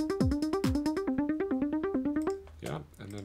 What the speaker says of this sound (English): Now I just bump the tempo up to something kind of trancey.